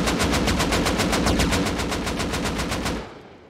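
Rapid automatic gunfire from explosive ammo in the survival game Rust, a loud, dense burst of evenly spaced shots lasting about three seconds before cutting off into a fading tail.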